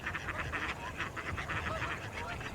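Colorful wild ducks in the American West quack in a quick, steady series of raspy calls, fairly close, over a noisy outdoor background.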